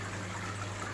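Water from a drip fill runs steadily into the corner of a koi pond, a soft continuous trickle and gush with no pauses and no voices.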